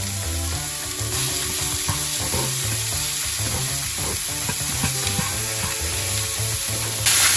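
Medium onion, pepper and red sweet pepper fry in a saucepan with a steady close sizzle and occasional scraping stirs, over a constant background hum, loud and uninterrupted, without voices.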